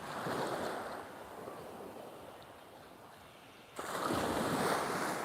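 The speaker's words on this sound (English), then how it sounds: "I love the sound of the waves and fishing boats." Ocean surf rolling onto a beach at Khao Takiab in Thailand, a steady broad wash of waves with wind noise, easing midway before a louder wave surges in near the end; fishing boats are out on the water.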